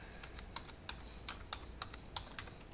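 Light, quick keystrokes on a computer keyboard, a short run of soft clicks at an even pace, quiet and alone.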